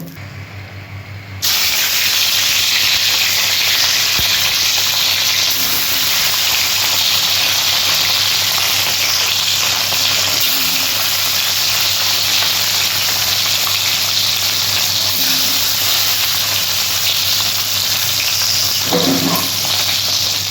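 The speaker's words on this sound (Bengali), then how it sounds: "তেলটা গরম হলে আমি ভেজে নেব পিসগুলো" Dough pieces fry in hot oil in a wok, producing a loud, steady hiss of sizzling that starts abruptly after a quieter moment and continues unbroken up close.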